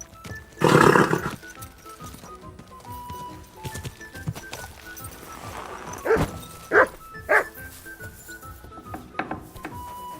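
A dog in the medieval video game Kingdom Come: Deliverance 2 gives a loud bark early on, followed by a few shorter barks and game sounds, with no voices.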